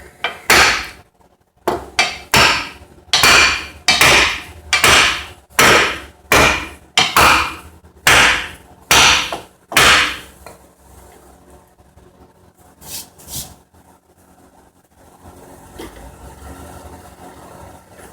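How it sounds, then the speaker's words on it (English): A hammer strikes wood in a steady run of about a dozen loud, sharp blows, then a few quieter knocks follow before the sound settles. "block of wood and a hammer"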